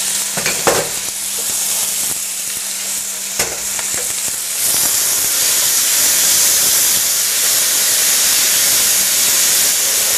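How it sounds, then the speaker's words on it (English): Corn kernels and tomatoes frying in a pan, a steady loud sizzle and hiss that swells after a few seconds as the liquid heats, with a couple of brief stirring clatters early on. "We're going to cook this and let all the waters evaporate out."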